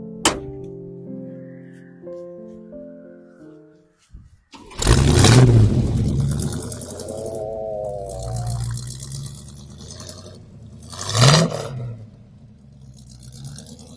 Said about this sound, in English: If only you could smell the exhaust from a non-fuel injected vehicle, the old style carburetors.